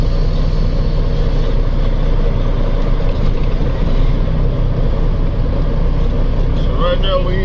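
A 1997 Freightliner Classic XL truck with a 12.7 Detroit 60 Series engine and 13-speed transmission pulling in second gear, a loud, steady low engine drone and rumble heard from inside the cab without a break.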